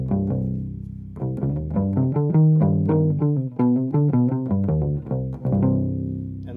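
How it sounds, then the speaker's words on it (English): Clean electric guitar with no effects, playing a jazz-style passage of single notes and chords with clear, distinct attacks; close and steady, with no voices. "So here's my clean sound."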